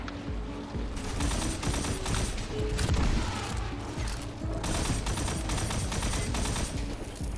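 Minigun fire in a Destiny-style shooter, a dense continuous rattle of rapid shots mixed with game effects, loud and unbroken throughout.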